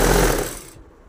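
A sewing machine briefly stitches the border of a saree, a fast close mechanical rattle that quickly slows and fades to quiet within about a second.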